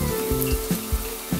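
Hot oil in a frying pan, ready for whole garlic cloves and almonds, gives a steady close sizzle with a few louder crackling bursts and soft clatters of stirring or handling. No one talks.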